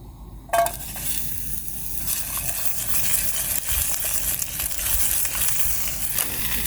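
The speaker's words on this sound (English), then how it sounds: "Just bought a few green peppers with me to cook off there. Using the Soto Windmaster." Green peppers fry in oil on a Soto Windmaster camping stove outdoors, giving a steady close sizzle and crackle, with a brief clatter near the start and no talking.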